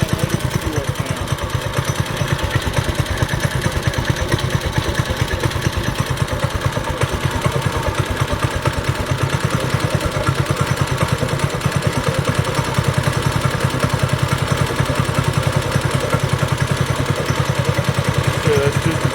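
Coleman RSV200 engine with a full throttle modification runs steadily at high revs, a loud continuous buzzing drone that holds throughout with no pauses.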